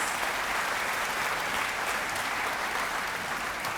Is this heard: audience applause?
yes